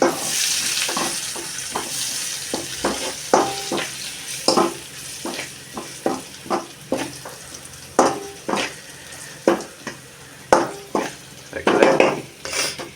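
Fish is stirred in a pan with salt and cumin powder, repeated sharp utensil scrapes and knocks against the pan over a low sizzle, about a dozen irregular strokes, close and clear with no talking.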